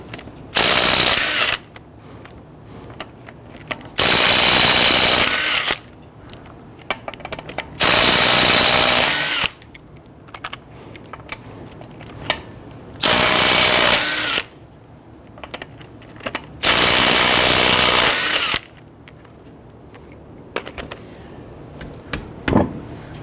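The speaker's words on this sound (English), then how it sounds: "Using a 21mm socket, loosen and remove your lug nuts." An impact wrench loosens and removes the 21mm lug nuts on a front wheel of a 2011-2017 Nissan Quest, sounding in loud, close bursts of about two seconds each, five in all, separated by quieter pauses.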